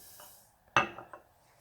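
A spoon clinks against a small bowl or glass while white pepper, Espelette pepper and a little water are stirred together for a rouille, one sharp clink followed by a few softer taps, close and alone.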